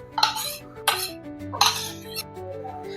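A spoon clinks and scrapes against a bowl while raita is stirred with ground pepper, black salt and sugar, in three or four short bursts over a steady tonal background.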